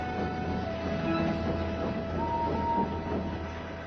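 A steam train arrives at a junction, rumbling steadily with a constant low drone, faint whistle-like tones rising briefly over the steady mechanical noise.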